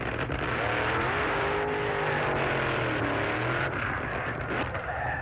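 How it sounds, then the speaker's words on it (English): A supercharged, nitro-fuelled funny car drag racer at a 1972 NHRA event at Amarillo Dragway makes a loud, continuous engine roar. Its pitch sweeps up and down as it revs, with no talk over it. "These cars have greatly modified supercharged engines and run on special nitro fuel."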